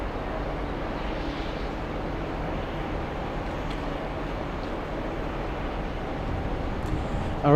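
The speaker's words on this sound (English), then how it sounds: "let's go for the Delta flight from Italy, from Rome." A Delta airliner arriving from Rome, Italy, rumbles as a steady distant jet roar, broad and even throughout with a slight swell at the very end, and no voices.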